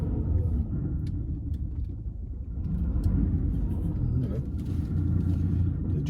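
An Aston Martin DB7 with its inline-six engine pulls along a road, a steady low rumble heard from inside the car that swells slightly as it gets going.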